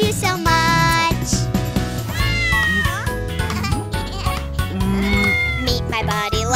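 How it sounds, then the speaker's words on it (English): A cat's meows sung out in a bright children's Halloween song, drawn-out pitched cries woven into loud, busy music over a steady beat. "Meet my buddy, lovely buddy, my kitty Boo"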